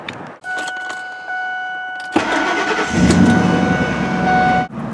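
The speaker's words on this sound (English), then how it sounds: "So we're going to fire up and get the oil hot." A 2003 Ford F-150 Lariat 4X4 pickup is started nearby: keys jingle first, then the engine cranks and catches about two seconds in, settling into a steady, loud idle with a brief rev.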